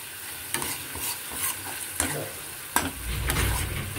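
Poppy seed paste and spices being sautéed in oil with bottle gourd and prawns, a steady sizzle punctuated by several sharp spatula scrapes and knocks against the pan, close and clear.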